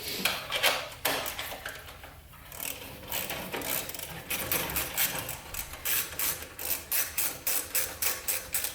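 A ratchet wrench clicks in quick repeated strokes while it removes a 10 mm bolt during a Ford Ranger teardown. Close metallic ticking builds into a steady rhythmic cadence toward the end.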